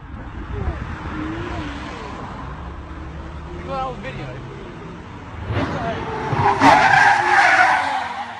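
A supercar loses control and skids, tires squealing in a loud, drawn-out screech that swells toward the end, with voices talking over it.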